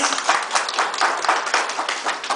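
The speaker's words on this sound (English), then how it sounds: "Can we clap," An audience at a talk on life and stress management claps, dense clapping from many hands at a close, fairly loud level that swells and dips in a loose rhythm.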